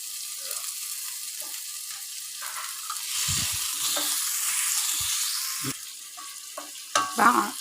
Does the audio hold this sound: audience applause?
no